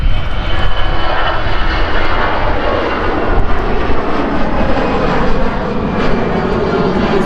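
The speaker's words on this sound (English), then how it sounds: "Yet another Easyjet A321 Aviation, this time on its way to Ibiza." An EasyJet Airbus A321 jet airliner at Manchester Airport, a loud sustained engine roar filling the air, broad and steady with a slight rise and fall as the aircraft passes.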